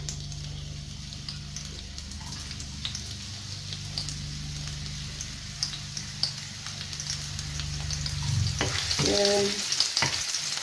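Onion fries in olive oil with a continuous crackling sizzle and occasional stirring clicks. A faint engine-like hum runs underneath, and a voice says a single word.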